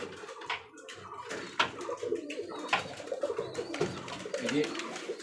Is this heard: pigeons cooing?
yes